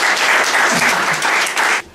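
A church audience at a healing service claps and cheers loudly for about two seconds, the applause cutting off abruptly near the end.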